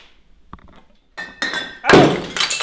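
Homemade mead bottle bursting in a cellar: a few soft knocks, then a sudden loud pop with spraying hiss and clinking glass that keeps fizzing afterward, close and sharp.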